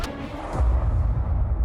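A single heavy gunshot booms near the start as two men shoot each other, followed by a low rumbling echo that lingers and fades over the next second.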